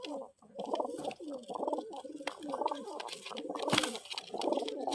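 Rare pigeons coo in close, rhythmic bursts, soft throaty rolls repeating every second or so, with light rustling and a faint tap in the background.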